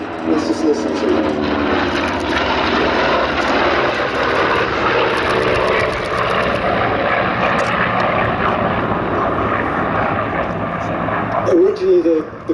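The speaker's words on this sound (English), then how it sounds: "And here come the Corsairs from the left." Corsair propeller fighters flying past at an airshow, a loud, sustained piston-engine drone with a steady roar that swells and shifts slightly as the aircraft pass, with no talking over it.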